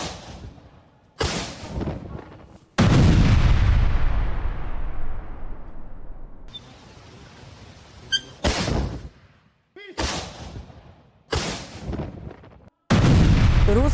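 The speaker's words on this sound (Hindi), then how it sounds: "रूसी टारगेट पर यूक्रेनी हथियार डिपो MSTAB होवित्जर से निशाना साधा गया है" Howitzer artillery fire around Kupiansk comes as several loud, sharp booms, one followed by a long rolling decay, separated by brief silences and abrupt cuts.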